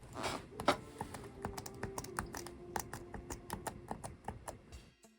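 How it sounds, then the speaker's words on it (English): Computer keyboard keys tapped to play a Jackbox party game demo, a quick irregular run of crisp, close clicks and taps continuing for several seconds with brief pauses. "you can actually use your keyboard like this"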